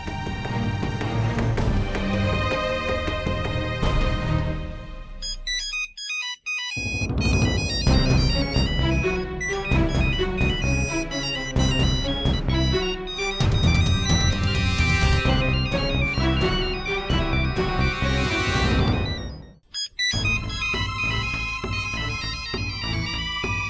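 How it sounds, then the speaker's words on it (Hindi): A loud electronic phone ringtone plays its melody over and over, with two brief pauses between repeats. "युग का फोन लगाता है"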